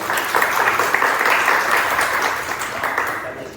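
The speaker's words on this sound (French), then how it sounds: "On va alors l'applaudir s'il vous plaît." An audience claps for a speaker at an event on digital technology and tourism, a dense, steady wash of applause that fades slightly toward the end.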